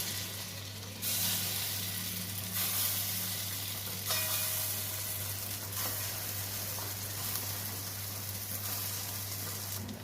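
Lentil fritters frying in hot oil give a steady, close, continuous sizzle and hiss, with occasional louder crackling surges and no talking.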